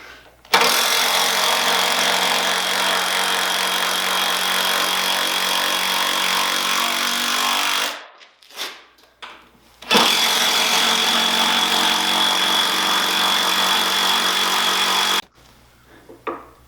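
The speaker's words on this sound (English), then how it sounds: "I'm using 2 3/4 inch construction screws." A power driver sinks 2 3/4 inch construction screws into a wooden workbench top in two long, loud whirring bursts, separated by a short pause with a few brief clicks.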